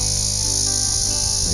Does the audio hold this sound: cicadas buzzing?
yes